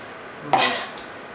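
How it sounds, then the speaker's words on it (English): A knife strikes a cutting board once while dicing cooked chicken for chicken wild rice soup, a single close, crisp chop with a short ring in an otherwise quiet kitchen. "Chopping some chicken up here."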